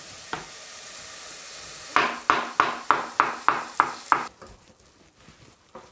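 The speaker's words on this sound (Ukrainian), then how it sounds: "Наступним кроком нарізаємо печериці" Champignon mushrooms sliced with a knife on a board for risotto: after a quiet start, about eight quick, evenly spaced crisp cuts, close and distinct, then stillness.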